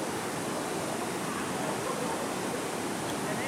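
Gently flowing stream water at Erawan National Park, a shallow creek over sand and rounded stones, gives a steady, continuous rushing wash, close and even throughout with no breaks.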